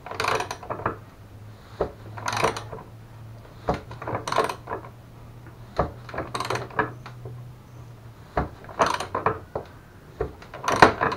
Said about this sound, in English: I'm going to have to re-thread the hole here, and put the bumper on tray again.